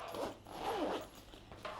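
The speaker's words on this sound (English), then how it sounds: "Then you have another zipper right here." A zipper on an underseat carry-on cabin travel bag is drawn along its track in one steady, close, continuous rasp lasting nearly two seconds, with no talking.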